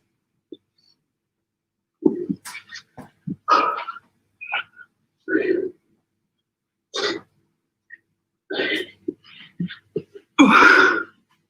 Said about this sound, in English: Dog's name is Storm.